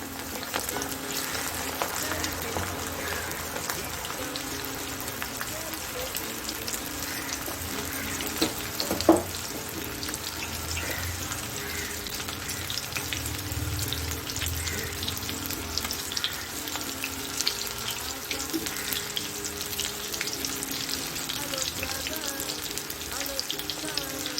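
Parsley and small onion pakoda fry in hot oil with a continuous soft sizzle and bubbling, close by, with some kitchen clatter and a brief clink partway through.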